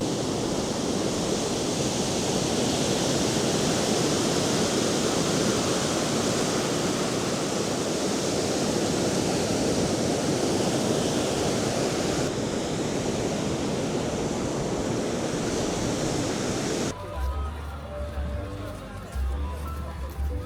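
Constant roaring wash of Baltic Sea surf at Palanga, Lithuania, loud and broadband, with wind; near the end it drops away as voices and other sounds take over.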